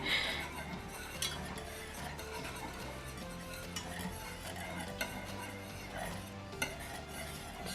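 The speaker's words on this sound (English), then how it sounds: "We'll have to stir this frequently so it doesn't burn." Gravy for a chicken pot pie being stirred in a pot: soft scraping and swirling with occasional clinks of a utensil against the metal and a faint simmer beneath, close and steady.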